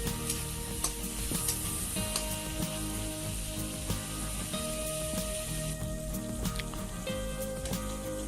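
Beef bhuna sizzles steadily in a pan on medium-low heat, with occasional scraping stir strokes over a dense crackling hiss.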